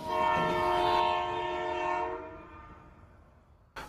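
Train horn sounding in an audio drama, a loud sustained tonal blast over rumbling rail noise that fades out, ending with a brief sharp clunk.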